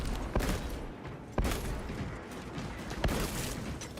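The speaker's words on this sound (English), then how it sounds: "Commencing reload. God, heavy bolt pistol moment." Heavy bolt pistol reload in a Warhammer 40k video game, three sharp metallic clicks and clacks spaced over a few seconds against a dense mechanical rumble.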